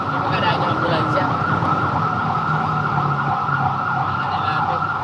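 Ambulance siren wailing steadily and loudly throughout, heard from inside a moving truck with road noise underneath and no talk.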